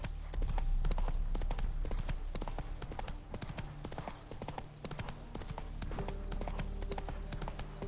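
Roach the horse trotting in The Witcher 3 on PS5, steady close hoof clip-clops in even rhythm throughout, with low ambient background.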